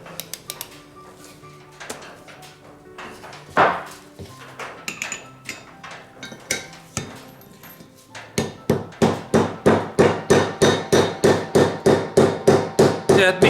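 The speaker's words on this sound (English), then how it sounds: "this socket, spark plug socket over the top of it, and tap it on nice and gently" A hammer taps a spark plug socket onto an engine valve guide during a rebuild of a Fiat Scudo 2.0 HDI engine. The metallic taps start out sparse and irregular, then become a rapid, even series of sharp, close strikes.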